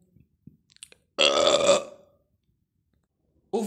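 A single loud, drawn-out burp rises suddenly after a few faint clicks and rustles, lasting under a second before trailing off into near silence, with another short sound starting at the very end.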